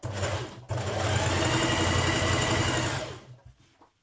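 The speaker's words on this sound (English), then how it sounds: "I'm top stitching it from the right side." A sewing machine top stitches a pressed, pinned facing on a summer dress, running in a steady loud whir that breaks briefly near the start, then continues evenly before slowing and stopping at the end.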